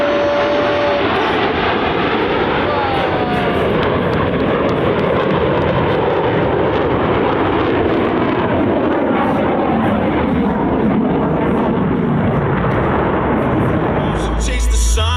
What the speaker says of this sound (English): The Blue Angel, barrel roll!